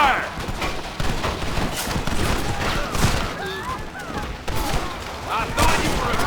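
Red Dead Redemption gunfight with bursts of covering fire, repeated sharp shots and rattling volleys crowding together under shouted voices, loud and continuous with echoing booms.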